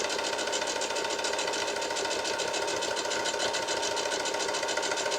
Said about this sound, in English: you would top stitch all the way round